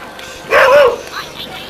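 A single sheepdog working alone to herd lambs gives one short, loud bark-like yelp, then quieter faint sounds trail off behind it.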